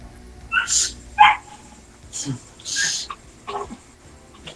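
A small dog barks and yips several times in short, uneven bursts, fairly close, with some whimpering between barks.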